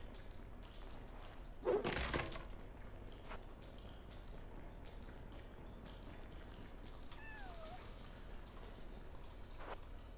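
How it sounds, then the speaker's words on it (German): A kitten meows once, faint and brief, in the video game Yonder: The Cloud Catcher Chronicles, against steady ambient game sound after an earlier louder knock. "Ich habe doch hier gerade ein Kätzchen gehört."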